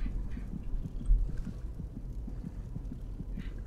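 A low, rhythmic heartbeat thumps steadily in the video game Skyrim, with soft repeated pulses at an even pace and little else around them.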